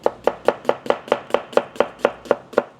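A kitchen knife chops through onion on a cutting board in eleven crisp, evenly spaced strikes, close and clear, with no talk.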